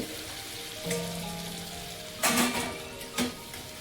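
Stuffed brinjals frying in a pan give a steady, close crackling sizzle, broken by a few louder clinks and bursts of spatter.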